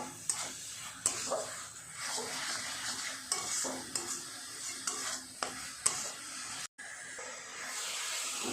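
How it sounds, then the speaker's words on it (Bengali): Sugar and grated coconut being stirred in a pan while cooking a coconut sweet, with a steady scraping stir and soft sizzle. Sharp clinks of the spoon against the pan come every second or so, with no talk. "এইভাবে চিনি আর নারকেলে সুন্দরভাবে নেড়ে নেড়ে কিছুক্ষণ পাক করব"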